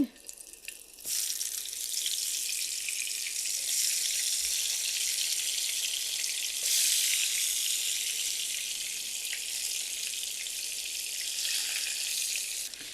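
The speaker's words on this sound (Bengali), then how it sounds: "বেগুন আর টমেটোটা আমি ভাজতে চলে আসলাম। ফ্রাই প্যানে কিছুটা তেল দিয়েছি।" Eggplant and tomato fry in oil in a frying pan, a steady broad sizzle that starts abruptly after a quiet first second and holds close and loud, swelling slightly midway.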